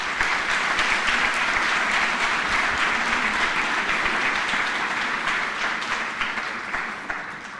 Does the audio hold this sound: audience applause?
yes